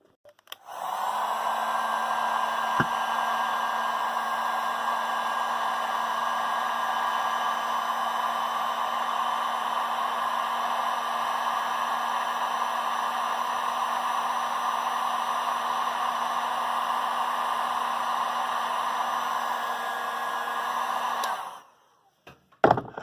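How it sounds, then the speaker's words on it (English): A heat gun runs with a steady, loud blowing whir for about twenty seconds, shrinking heat-shrink tubing over a crimped wire during wiring work on a 1991 Firebird, then cuts off. A couple of clunks follow. "grab my heat gun and heat that up"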